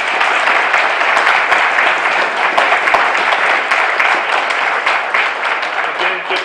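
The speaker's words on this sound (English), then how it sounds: "How about a round of applause for them?" Audience applause for two county commissioner candidates after a local debate: dense, continuous clapping from a sizable room, steady and fairly loud throughout.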